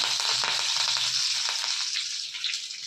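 Mustard seeds, dried red chillies and curry leaves sizzle and crackle in hot oil for a South Indian sothi kuzhambu tempering, a steady close frying hiss with scattered pops, no talk.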